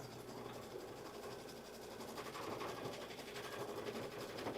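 A Solaris Vision embroidery machine stitches a stippling pattern across a quilted jacket, giving a steady, fast mechanical whir and rattle that runs without a break and grows slightly louder partway through.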